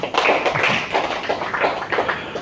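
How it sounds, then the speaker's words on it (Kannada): Audience applause for Shabbir Sir after his motivational talk at Ali Kannada Kali Academy in Tumkur: close, uneven bursts of hand claps that pulse through the whole moment with no voices. "ಶಬೀರ್ ಸರ್ ಅವರಿಗೆ ಜೋರಾಗಿ ಚಪ್ಪಾಳೆ ಹೊಡೆಯೋಣ"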